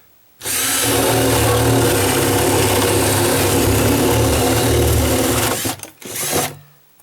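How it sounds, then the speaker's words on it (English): A loud reciprocating saw cutting deck wood buzzes steadily for several seconds, then sputters, stops briefly and revs once more before cutting off. "Now I can Sawzall that."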